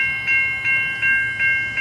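A Canadian National ethanol freight train rolls along the rails with a steady low rumble, and a repeating ringing tone swells in regular pulses roughly every 0.4 seconds over the running noise.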